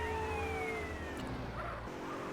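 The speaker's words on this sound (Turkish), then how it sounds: "Aha bir tane geldi polis arabası." A police car siren in the video game GTA San Andreas wails with a falling sweep over steady engine and traffic noise, heard faintly for a couple of seconds.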